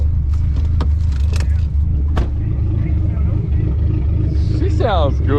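A Dodge SRT-4 rumbles steadily while driving, its engine drone loud and close throughout, with a few clicks and knocks over it and a person speaking near the end.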